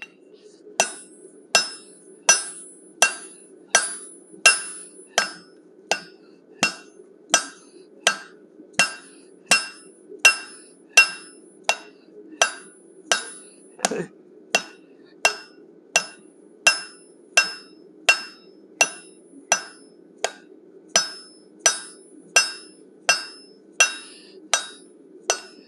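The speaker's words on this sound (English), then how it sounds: "First step of the process is to forge a 3-sided taper, tapered on the top and the sides and flat on the bottom." Steady hammer blows forge a three-sided taper on 1-inch square steel stock, tapered top and sides and flat on the bottom, about thirty close, loud ringing strikes at an even rhythm with no talk.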